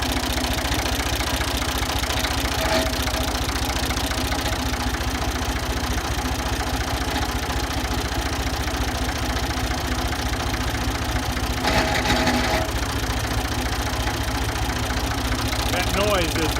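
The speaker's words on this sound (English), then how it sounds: "That noise is the water pump." A Ford 2000 diesel tractor engine idles steadily and loudly with a constant mechanical drone and water pump hum, unchanging throughout.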